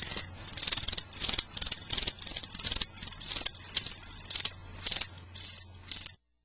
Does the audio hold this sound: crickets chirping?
yes